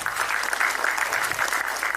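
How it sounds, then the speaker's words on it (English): Audience applause at a funding information session, a short burst of dense clapping, loud and close, sustained across the whole moment. "Can we give another round of applause, please?"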